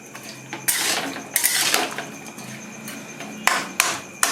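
A lid goes onto a cooking pot of potato and soybean curry, with sharp metallic clanks at intervals and several clattering knocks of metal on metal, close and fairly loud.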